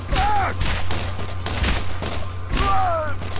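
Gunfire in the video game Borderlands, a dense, loud burst of rapid shots and impacts that runs continuously throughout.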